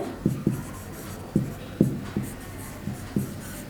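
A pen writing by hand on paper while an accounting problem is worked, giving short scratchy strokes in an uneven rhythm of about eight distinct bursts, close and clear, with no talking.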